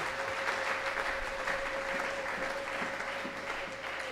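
A church congregation applauds steadily and densely throughout, a continuous wash of clapping from many hands with a faint sustained tone running beneath it.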